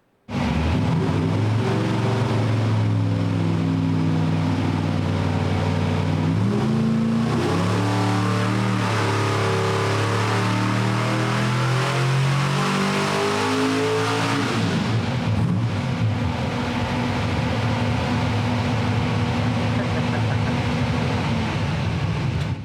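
A supercharged small-block Ford engine fires up and revs loudly, pitch climbing and falling through several throttle blips before settling into a rough, lumpy idle, close and alone with no talk.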